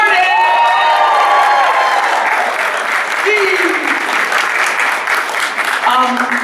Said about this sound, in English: clap for him when he comes out here